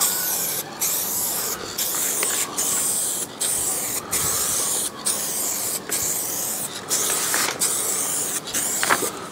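A final coat of spray paint goes onto the rear beam of a Fiat 500C: loud, close hissing bursts with short, regular breaks between passes, and no talk.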